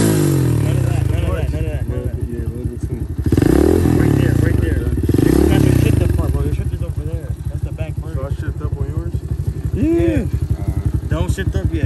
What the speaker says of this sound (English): Just twist the throttle.